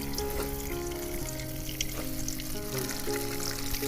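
Hot oil sizzles steadily in a wok for shev bhaji, a close, continuous frying crackle that runs throughout, with no speech.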